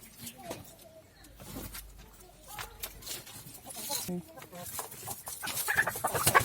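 Chickens cluck in short bursts nearby, with scattered rustling and a voice talking intermittently.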